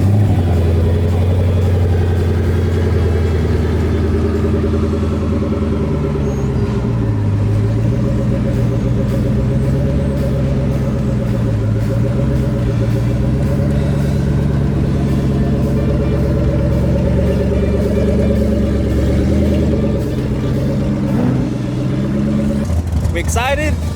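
A new twin-turbo Ford Mustang runs at a race track, its engine a steady loud rumble and drone that holds throughout, with occupants talking over it.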